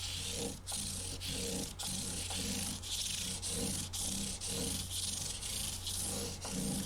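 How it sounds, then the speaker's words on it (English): Sandpaper from 400 to 1000 grit rubs back and forth over the frets of a 1956 Gibson ES-125 guitar behind a fret shield, giving a steady, rhythmic, close-up scratching with regular strokes and no talking. "Back with the fret shield, I'll do 400 grit through 1000 grit."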